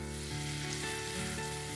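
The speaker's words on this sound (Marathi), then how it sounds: "आलं लसूण कोथिंबीरची पेस्ट एकदम छान फ्राय झाली आहे" Ginger, garlic and coriander-stem paste frying in a pan for a restaurant-style rohu fish curry, giving a steady close sizzle that stays loud and even with no voices.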